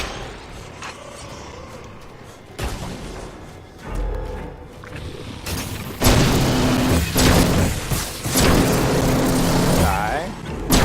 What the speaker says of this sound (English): Don't want to get too close to them after you shoot them because they explode